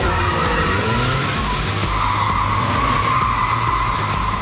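A rear-engine, rear-wheel-drive Porsche 911 sliding during a film stunt, with tires screeching continuously and loudly over a roaring engine, close and sustained throughout.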